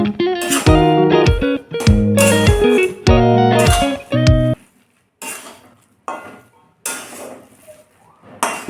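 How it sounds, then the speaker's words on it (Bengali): A spoon stirs powdered milk into carrot halwa in a pan, making a series of rough scraping and clinking strokes. Loud music with sustained tones plays over the first half, then the stirring continues in short, uneven bursts on its own. "গুঁড়ো দুধটা আমি ভালো করে মিশিয়ে নিচ্ছি।"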